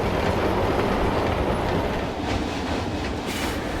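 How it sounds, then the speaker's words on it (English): A roller coaster train in Planet Coaster 2 rushes along its track through a big turn just after coming off the second lift hill, giving a loud, continuous rumbling roar with rattling clatter and no talk. "this train coming off the second lift now, going into this big turn here"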